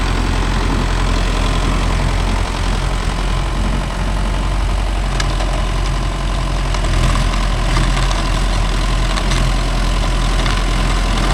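A Mahindra Yuvo Tech Plus 585 4WD tractor pulling a 42-blade Gomathi rotavator runs loud and close, its steady low diesel rumble continuous and unbroken, with the soil-tilling blades churning underneath.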